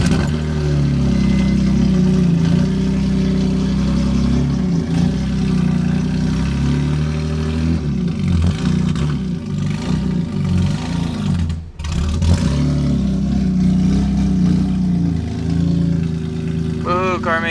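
A BMW M3 GTR car engine idling with a steady low rumble, with a few slight rises in revs and a short dip partway through. The engine is close and loud, and people talk over it.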